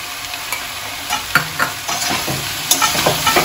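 Banana flower curry with fritters and grated coconut is stirred in a hot pan: loud, close scraping strokes come in an uneven rhythm over a constant frying sizzle.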